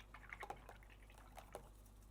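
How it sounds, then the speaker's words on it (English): Paintbrush swished and rinsed in a small jar of water during a watercolor session: quiet, close liquid clinks and light splashes in a few short bursts. "I'm just going to wash off my brush in my water"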